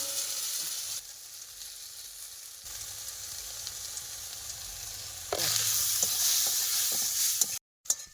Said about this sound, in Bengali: চিংড়ি মাছ কিন্তু ভাজা হয়ে গেছে প্রায়